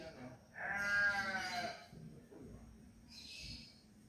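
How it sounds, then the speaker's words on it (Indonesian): A goat bleats in Kota Batu, Malang, giving one loud, wavering cry from close by, then a shorter, fainter call follows a few seconds later over low background rumble. "ada kambing."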